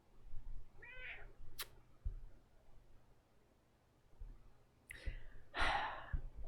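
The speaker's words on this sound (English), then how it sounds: "My cat is spending time with me. She's on my lap." A pet cat on its owner's lap gives a few soft, close meows, with quiet breathing-like sounds and low background hum between them.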